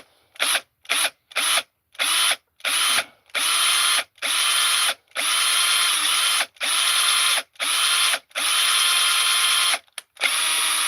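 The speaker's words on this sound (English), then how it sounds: "all it really takes is just a tiny little drill bit, like what I've got on here" A small electric drill with a tiny bit whirs in repeated bursts, short pulses at first, then longer steady runs, each stopping abruptly, close up with no talking.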